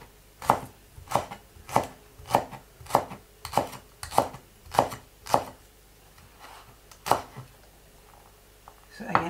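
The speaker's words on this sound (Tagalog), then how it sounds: "Huwaan po natin ng spring onion." Spring onion chopped with a knife on a cutting board for an autumn vegetable salad, about a dozen steady, close, crisp knife strikes in a regular rhythm, slowing toward the end.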